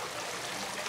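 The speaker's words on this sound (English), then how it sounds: "There's the fountain." A backyard garden fountain trickles steadily, a soft, continuous splashing of water with no voices over it.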